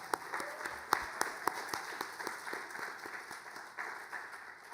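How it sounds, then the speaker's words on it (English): Quiet audience applause at a talk on net-zero buildings, scattered claps with a few sharp distinct hand hits standing out over a soft, distant bed of clapping. "And I have to give you a round of applause again."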